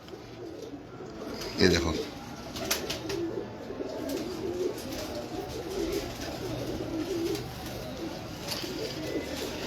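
Pigeons coo in a steady, close chorus that lasts throughout, with someone briefly speaking over the birds near the start.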